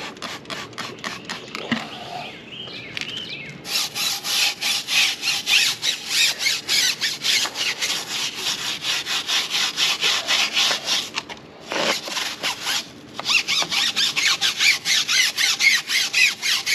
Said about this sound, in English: add this cleaner to the tire and scrub with the brush.